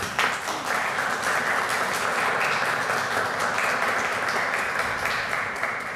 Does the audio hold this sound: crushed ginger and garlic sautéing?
no